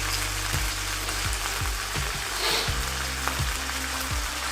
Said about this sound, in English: And we'll let them fry.